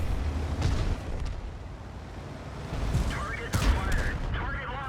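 Tank cannon fire in the World of Tanks battle on Ensk, with a Kampfpanzer 50t among the tanks: several heavy booming shots, one punchy blast near the middle and a loud one near the end, over continuous engine rumble and battle noise.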